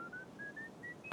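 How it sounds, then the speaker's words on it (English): A video game innkeeper whistles a cheerful tune in the tavern game Eternum, a thin string of short rising notes carried over low background ambience, faint and steady and ending in a soft knock. "all while whistling a cheerful tune"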